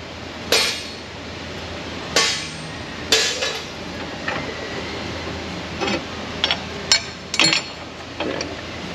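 Metal hammer blows on the suspension U-bolts of a 2021 Toyota Tacoma truck, eight or nine sharp clanging strikes spaced irregularly over several seconds, close and loud against a quiet shop background.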